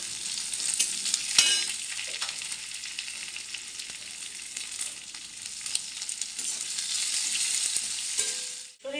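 Onion sizzling in hot oil in a pan while dal is being prepared, a steady bright frying hiss close by with a few stirring knocks early on and no voices.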